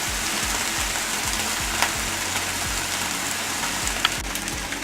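Lean turkey sausage frying fast in a skillet with little grease, giving a steady, fine crackling sizzle with a few brief pops, close and continuous, no voices over it.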